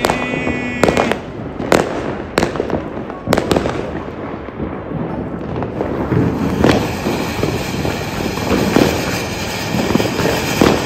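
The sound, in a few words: Diwali firecrackers going off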